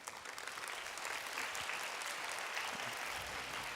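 Conference audience applauds after a keynote presentation, a dense sustained wash of many hands clapping that swells slightly and carries on steadily with no one speaking over it.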